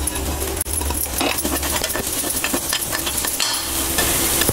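Onion and tomato with fresh coriander leaves sautéing in a pan for vallarai keerai chutney, with a loud, steady sizzle and repeated metallic clinks and scrapes of a ladle stirring against the pan.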